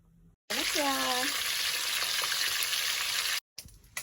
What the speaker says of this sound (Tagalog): Isda, ipipirito ko na po siya.